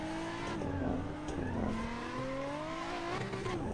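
A Nissan 350Z drift car engine holds a high, steady rev in fourth or fifth gear with slight rises and dips in pitch, loud and continuous throughout, at a drifting event.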